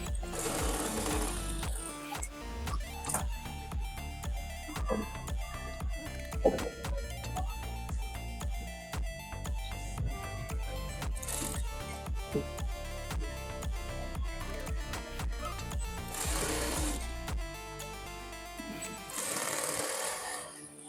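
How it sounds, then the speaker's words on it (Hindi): A sewing machine stitches a fabric strip for a blouse in a steady, continuous mechanical whir, with short bursts of faster stitching, moderately close and heard alone. "फिर यहाँ से लेके यहाँ तक हमें सिलाई लगा कर लेनी है।"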